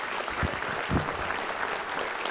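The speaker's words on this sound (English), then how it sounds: "everybody in this room should rise and give a big round of applause to the leadership of the Legislative Black Caucus" Steady applause filling a room at a Bayou Classic scholarship jazz brunch, many hands clapping at moderate loudness with a couple of heavier thuds, no speech over it.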